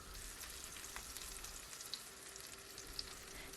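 Peppers and sucuk fry in butter in a pan, giving a quiet, continuous sizzle with a faint steady hiss and a couple of small pops, no voices.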